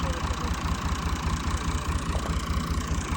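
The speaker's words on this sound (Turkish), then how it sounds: "Bakın traktör çalışmış." A tractor engine idles close by, a loud, even, rapidly pulsing chug that holds steady throughout with no other sounds over it.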